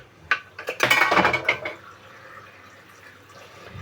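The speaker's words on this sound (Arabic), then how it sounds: "غنرد هاد الخضره ديالي تسلق بشويه د الماء" A little water poured over chopped vegetables in a cooking pot for a vegetable soup, a short splashing, clattering burst close by that tails off into a softer trickle and quiet.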